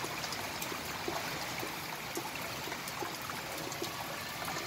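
Floodwater flows steadily into a house, a constant quiet rushing and trickling wash of water with no break, heard alone without voices.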